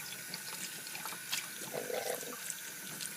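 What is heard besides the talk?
cold water running from a tap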